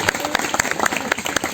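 Students at an MTsN 4 Pasuruan school event applaud their instructor with brisk, fairly dense clapping nearby, a short burst of scattered sharp claps and no speech over it.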